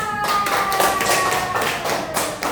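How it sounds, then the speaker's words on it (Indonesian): A group claps hands in a classroom, a quick run of sharp, fairly loud claps with a light ringing tone underneath. "Tepuk tangan."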